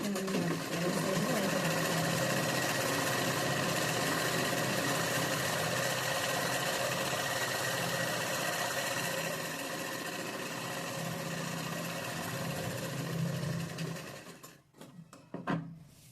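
A sewing machine runs a long, steady stitching drone while top stitching along the edge of a chudi, close and continuous, fading near the end into a few handling knocks.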